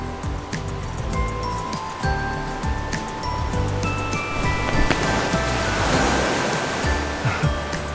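Ocean waves in the video game Love and Deepspace wash steadily throughout as a continuous surf roar, with faint sustained musical tones underneath and no voices.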